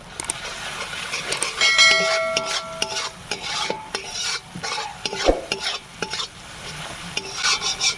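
Spices being stirred and fried in a pan for a potato curry with freshly caught snakehead fish, a steady close sizzle with scraping stirs throughout and a few clinks of the utensil, no talking.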